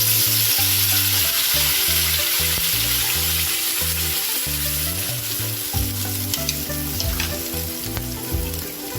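Spice paste with Kashmiri red chili powder fries in oil in a pan for Hyderabadi paneer, a loud, steady hissing sizzle that runs throughout beneath a low, rhythmic musical backing.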